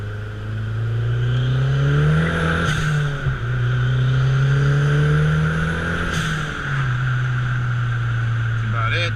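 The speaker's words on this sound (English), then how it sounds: "I'm gonna do a quick second, third gear pull for you guys." Mazdaspeed3 fitted with a Corksport CST4 turbo and full bolt-ons, pulling hard through second and third gear on an empty street in Mexico. Engine drone climbs steadily in pitch, drops at each upshift and climbs again, loud and close.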